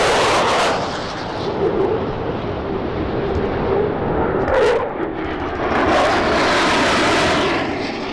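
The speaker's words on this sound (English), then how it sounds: "The F-35 Lightning II is a 5th-generation fighter jet." An F-35 Lightning II stealth fighter jet roars past, a loud broadband engine rumble that swells and surges continuously, with a brief sharper burst midway.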